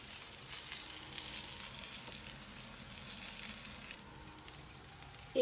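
Kochurmukhi taro pieces sizzling in hot oil, a faint, even hiss throughout that drops slightly before a short knock at the very end.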